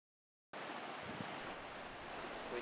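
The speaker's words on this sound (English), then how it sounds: "the Superior waves crashing on the beach" Wind-driven Lake Superior waves crash on a beach in a steady, dense roar of surf with gusty wind noise, starting abruptly after a moment of silence.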